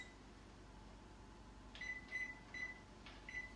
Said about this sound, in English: I'm gonna turn on to oven, and I'm gonna set it to 400, and I'm gonna set my timer to 40 minutes